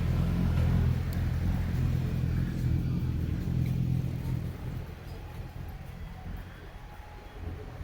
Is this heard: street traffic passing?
yes